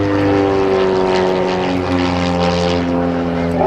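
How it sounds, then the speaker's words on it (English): Aerobatic airplane fitted with a wooden Warnicki propeller performing rolls at an airshow, its loud, steady propeller drone with strong harmonic tones shifting slightly in pitch throughout. "It's called a Warnicki propeller, and you may hear it sound like it's actually changing pitch"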